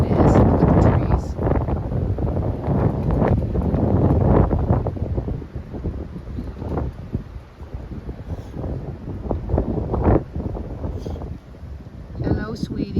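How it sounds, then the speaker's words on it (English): Strong wind blows outdoors among trees at a home decorated with festive lights, heavy gusts buffeting the microphone in loud rumbling bursts that rise and fall, with a voice speaking in between. "It is that windy."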